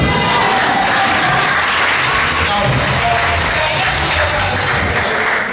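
A large crowd at a political campaign rally in Embacadere, San Fernando, Trinidad, cheers and claps in a loud, continuous roar that holds steady throughout.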